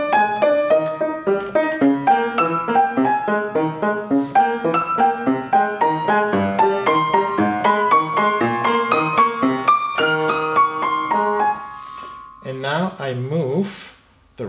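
Solo piano playing a Beethoven passage from bar 28 with both hands strictly together, a steady run of close, loud chords and notes that thins near the end, where a voice briefly begins speaking.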